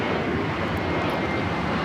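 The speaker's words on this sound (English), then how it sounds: "Those are the sounds of JetBlue 700 taking off to Fort Lauderdale on the A321" A JetBlue Airbus A321 takes off at LAX with a loud, steady, broadband jet engine roar that fills the whole stretch without a break.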